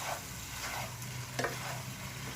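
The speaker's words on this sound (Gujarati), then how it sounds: "હવે આપણે એને હલાવી દઈશું।" Chicken pasta with salt and masala is stirred in a hot pan, with a steady close sizzle and a quick scrape of the spoon partway through, with no voices.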